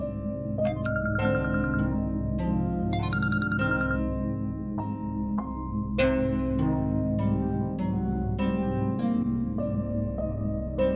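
A phone ringtone plays continuously for several seconds, a repeating melodic electronic ring with steady rhythm, clear and fairly loud, with no talking over it.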